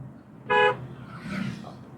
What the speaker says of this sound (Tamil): இங்கே ஒரு தடவை ஹாரன் அடிச்சிடும்